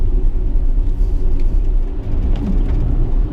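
Cabin of a Tesla Model X driving in sport mode: a steady, loud low rumble of road and tyre noise with a faint whir, constant throughout and with no talking.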